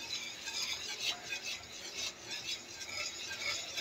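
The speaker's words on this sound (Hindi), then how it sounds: "इस तरह का कोई बीटर ले लेंगे, इस तरह इसे चलाते हुए थोड़ा थोड़ा करके डालेंगे" A beater whisks milk steadily while custard powder is added little by little, making a continuous close swishing, rasping stir that swells and fades in a regular rhythm.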